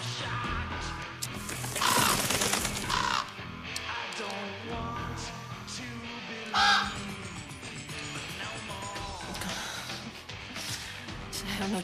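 Crow caws ring out in a film scene, harsh calls standing out at a couple of points against a dense, loud backdrop of music and crashing noise.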